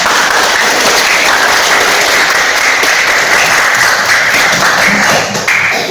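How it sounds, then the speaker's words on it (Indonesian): Loud sustained applause from a class of students with their teacher, steady dense clapping throughout that tapers slightly at the end. "Tepuk tangan dulu untuk kita semua."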